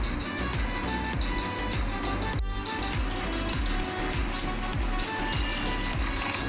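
Water pours into a village-style fish curry masala simmering in a pan, a continuous close splashing gush with bubbling under it and no talking.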